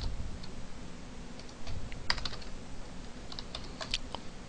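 Keystrokes on a computer keyboard while entering form labels in a web design program: scattered, fairly faint clicks in short bursts over a low steady hiss, with no talking.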